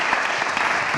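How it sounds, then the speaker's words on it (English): A brief burst of audience applause for a charity-sector panel at a launch event, dense steady clapping from a room full of people throughout the second. "Please give them a big round of applause."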